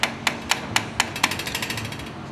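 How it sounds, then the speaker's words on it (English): A hammer taps the packing nut of a Graco FinishPro 395 paint sprayer to tighten it. The sharp metallic ticks come close and clear, first evenly spaced, then in a quicker run of lighter taps. "put a hammer in this little opening or a screwdriver and tap it to tighten your packing nut"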